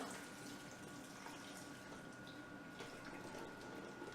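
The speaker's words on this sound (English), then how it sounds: "So next we're going to strain them. Got a strainer set up here. We're just going to pour this into the bowl." Soaked cashews and their soaking water pour through a strainer into a bowl, a steady, soft rushing of water lasting throughout, quiet and close with no talk over it.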